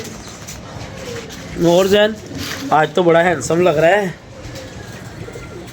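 Pigeons coo near a keeper's loft, low and intermittent, while someone talks loudly close by over them.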